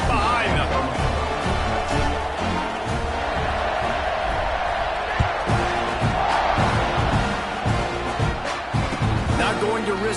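Stadium crowd in a college football video game, a continuous loud roar of cheering with scattered thumps, mixed under an announcer's voice.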